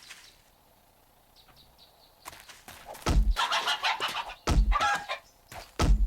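Chickens cluck in the survival video game 7 Days to Die, a quiet run of clucks followed by louder, close repeated clucking bursts with sharp thumps between them.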